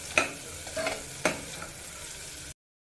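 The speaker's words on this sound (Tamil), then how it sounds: "வெங்காயம் நல்லா கலர் சேஞ்ச் ஆக வரைக்கும் நல்லா வதக்கிக்கோங்க." Onions sautéed in a pan for capsicum pulao hiss softly while a spoon clinks and scrapes against the metal about three times, loud up close, before the sound stops abruptly.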